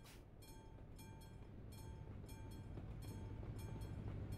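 Steady low rumble of a train passing in Euro Truck Simulator 2, with a rhythmic clatter and faint repeated high tones, growing slightly louder over a few seconds.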